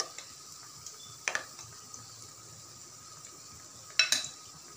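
Bread pakoras frying in oil on a low flame make a soft, steady sizzle, broken by a few light clinks of a utensil.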